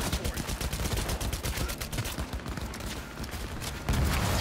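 Continuous rapid gunfire in the video game Cyberpunk 2077, dense automatic bursts filling the whole stretch, loud and close, with a faint voice under the shooting.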